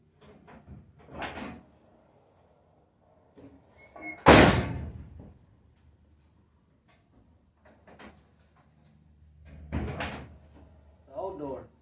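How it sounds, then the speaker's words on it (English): A 1967 Chevelle's old, ungreased car door slams shut once, loud and close, with a heavy thunk; quieter handling knocks and a voice come before and after it. "And yes, the door shuts."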